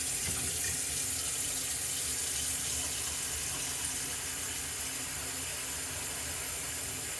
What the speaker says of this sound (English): I might as well turn on the water here.